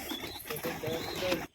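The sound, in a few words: racer pigeons cooing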